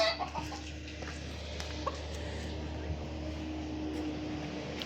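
Faint, intermittent clucking of chickens and chicks over a low steady background hum, scattered soft calls at moderate distance.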